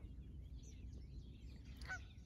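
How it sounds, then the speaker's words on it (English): Geese honk as they fly in. A few short, nasal calls cluster near the end over a steady low outdoor rumble. "Looks like the geese are coming in."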